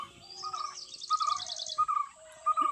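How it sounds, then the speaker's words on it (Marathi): A bird calls in a home garden with repeated short, clear whistled notes and a brief trilling run, nearby and alone without talk. "पक्षी बघ कसं ओरडते"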